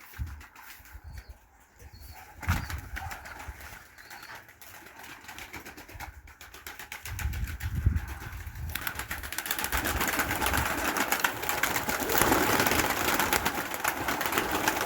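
Pigeons coo softly during an evening feeding amid a busy background of mechanical whirring and street noise that grows louder over time.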